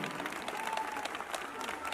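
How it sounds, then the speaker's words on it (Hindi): Audience applause at an annual day function, dense continuous clapping from a large crowd filling the hall, with a voice speaking underneath. "ताली बजाओ, खड़े रहेंगे।"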